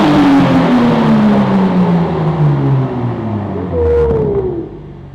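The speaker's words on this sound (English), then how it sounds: "he's gonna give us a couple of revs" A manual Mk5 Toyota Supra's engine revs loudly up close, its pitch sweeping down through a long fall and then a short second blip that rises and drops away, with no talking.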